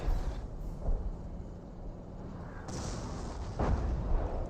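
Artillery fire in the strategy game Company of Heroes: deep booms and rumbling impacts, some distant and some closer, over a dense bed of battle noise, with no voices.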